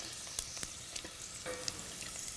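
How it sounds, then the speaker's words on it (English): Arancini risotto balls frying in hot oil, cooked in batches, giving a steady, fairly loud crackling sizzle with scattered sharp pops and no voices. "You'll hear that sizzle, it'll get nice and golden brown."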